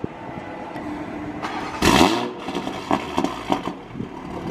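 Toyota Supra Mk5 on E85 with an aFe cold air intake, exhaust valves closed, gives one loud, sharp rev burst that swells and falls away, followed by lighter engine burbles at close range.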